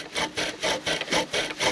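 A bow drill spins a wooden spindle against a wooden fireboard while making fire, giving rhythmic back-and-forth rasping strokes, about seven in quick succession, close and moderately loud.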